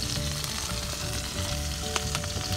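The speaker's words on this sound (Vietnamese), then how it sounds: "rồi đổ siro vô quậy em đổ siro vô quậy đều" Syrup being stirred into shrimp cooking in a hot pan for bánh xèo, a steady close sizzle and frying crackle with faint scraping of the stir, no talk.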